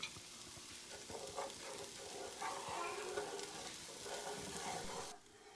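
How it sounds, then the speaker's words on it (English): A spoon stirs flour into melted butter in a pan for a roux for Cajun corn soup, giving a steady scraping, stirring rustle over a soft sizzle that ends abruptly near the close. "you will add in 1/2 cup of all-purpose flour, and you'll get stirring immediately"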